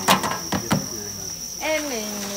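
Crickets raised on a Vietnamese cricket farm chirp in short bright bursts at first, with a steady high insect whine throughout and some background noise or a voice toward the end.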